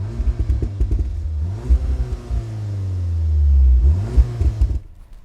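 An Audi S3 engine revs hard twice, its deep exhaust note climbing and falling with a steady rumble between the blips, loud and close with no one talking.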